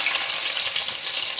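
Onion sizzles in about a cup of hot oil for chicken saaru, a continuous bright crackling hiss with no talk.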